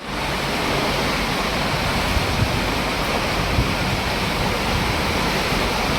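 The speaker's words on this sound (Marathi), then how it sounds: "खूप पाऊस पाऊस झाला वा वादळ" Dense, steady roar of heavy rain pouring down continuously, loud and close, with no voices.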